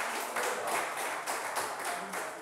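Applause from a studio audience on a French television quiz show, a steady wash of many hands clapping for a short stretch with no voices over it.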